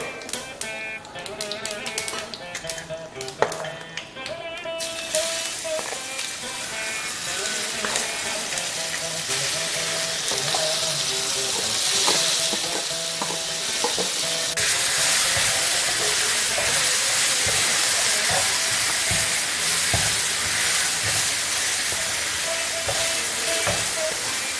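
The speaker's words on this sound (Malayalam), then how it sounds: "ഇത് നമുക്ക് ഇതിലേക്ക് നമ്മൾ ചതച്ച് വെച്ചേക്കണ പച്ചമുളക് ചേർത്ത് കൊടുക്കാം." Crushed green chilies and neem leaves fry in hot oil with a dense, continuous crackling sizzle that grows brighter and louder partway through, with no speech.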